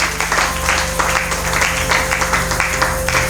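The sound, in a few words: congregation applauding the Lord in church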